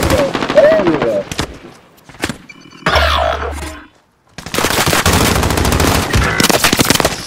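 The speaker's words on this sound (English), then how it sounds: "Fuck it, I'm getting shot by. Aw, oh, come on! Getting shot by everywhere!" Rapid automatic gunfire from a Call of Duty Modern Warfare match crackles loudly in repeated bursts, breaking off for a brief lull before a long, dense volley, with a voice talking over parts of it.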